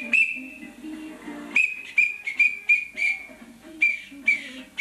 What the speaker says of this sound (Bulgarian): Джонка, тази свирка е фалшива